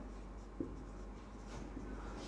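Chalk or marker writing on a board during a Hindi-language hydraulics lecture in a civil engineering class, heard as faint, scratchy strokes with a couple of small taps, in a quiet room with no talking.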